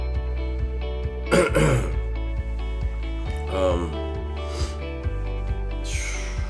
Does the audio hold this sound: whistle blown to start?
no